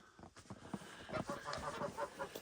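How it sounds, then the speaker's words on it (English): Turkeys on a snowy farm make short, quiet gobbling and clucking calls in quick bursts, fairly close but low in level, with no talking. "the turkeys keep interrupting me with their gobbles"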